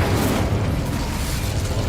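A fiery Incendio spell blast in a Harry Potter video game roars as a steady, loud, broadband rush of flame lasting about two seconds without easing.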